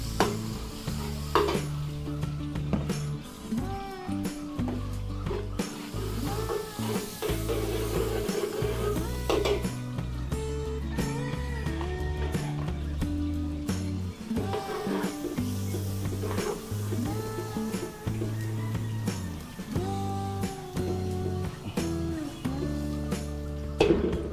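Garlic sizzling as it is sautéed in a pan for Filipino cooking, a continuous close frying hiss broken by repeated scraping and clinking strokes of a utensil against the pan, with no one talking.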